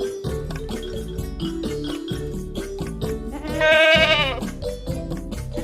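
A young goat kid bleats once, loud and quavering, over a bouncy musical backing with steady rhythm.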